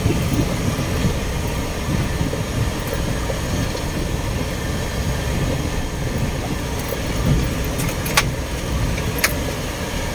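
Continuous rumbling engine drone of an excavator clearing a ditch by a sugar cane field, steady and fairly loud, with occasional faint clanks.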